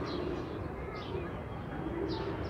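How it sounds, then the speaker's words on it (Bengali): Racing pigeons coo softly in repeated low, throaty calls, close by, with a steady background murmur. "দেখি যে আমার আরেকটা কবুতর চলে আসছে"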